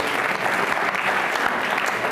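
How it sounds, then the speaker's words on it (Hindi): Audience applause at a law college quiz show in Rajasthan honouring teachers, dense and steady clapping from a full room, loud and close for its whole length. "तालियां बजाइए उन सभी के सम्मान में,"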